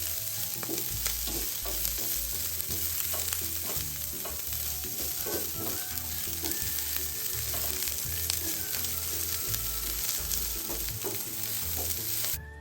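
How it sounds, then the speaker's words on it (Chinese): Squid strips sizzle loudly in a hot wok with cabbage and shredded carrot, with constant frying crackle and repeated scraping and tossing of a spatula throughout, no talking. "炒香后，再将包菜与胡萝卜丝也加进来。"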